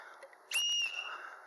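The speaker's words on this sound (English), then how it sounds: "This is a whistle. Oh yeah, for signalling." A plastic whistle from a cheap survival kit gives one short, shrill, steady blast of about half a second, loud and close, with no talk over it.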